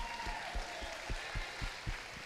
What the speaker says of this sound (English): Huge round of applause for all these volunteers standing in front of you.